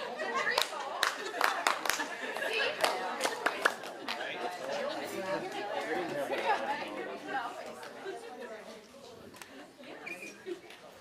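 A group at an annual meeting claps together in sharp, fairly loud bursts with chatter and some laughter around them, then settles into continued talking.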